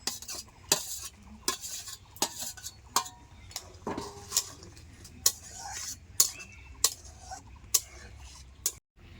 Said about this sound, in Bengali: এবার আমি দিয়ে দেবো ভেজে রাখা মাছগুলি